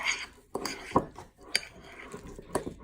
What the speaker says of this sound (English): now we're just going to stir everything up